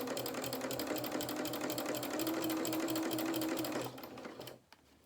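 A sewing machine stitches dungarees with a fast, steady mechanical chatter of the needle that runs loud and even for about four seconds, then slows and stops.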